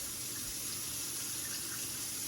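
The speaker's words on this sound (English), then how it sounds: "what we do have is unlimited running water" Tap water runs steadily from a faucet indoors, a close, even rushing hiss that continues unbroken with no voices.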